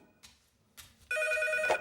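A telephone rings loudly with a steady electronic trill lasting under a second, preceded by two faint brief knocks or rustles in an otherwise quiet indoor setting.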